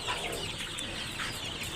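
Chittagong hill chickens cluck continuously at close range in a busy, noisy farm setting.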